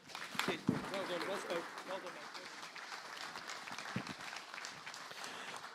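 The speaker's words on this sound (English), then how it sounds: "Ladies and gentlemen, give him a big round of applause, please." An audience at the Southern 100 2026 launch event claps steadily for a local rider, a soft, fairly distant patter of applause with a voice speaking over it.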